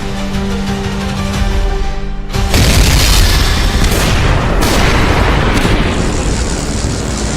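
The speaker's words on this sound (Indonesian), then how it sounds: "Namun ternyata si drone terkena tembakan dan akhirnya pun jatuh dan meledak." A drone's steady mechanical hum cuts off as it is shot down, then a loud boom erupts, followed by a sustained roaring blast and rumbling debris.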